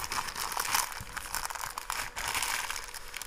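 Plastic bag crinkling and rustling around a 2205 drone motor, close and fairly loud, in a continuous crackling stretch with brief dips.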